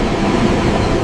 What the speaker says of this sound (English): The train gradually accelerates to its maximum design speed of 300 kilometers per